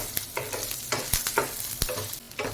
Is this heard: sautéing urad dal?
yes